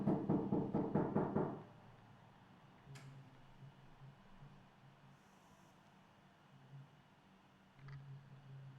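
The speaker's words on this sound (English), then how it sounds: "someone's at the door" A door is knocked on in a quick run of about eight sharp raps lasting over a second, loud and close, followed by quiet room tone and a faint click.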